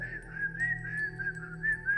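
A person imitates a whistle heard coming from inside a bathroom: a short, wavering, tuneful whistle with rising and falling pitch, close and fairly clear against a quiet background.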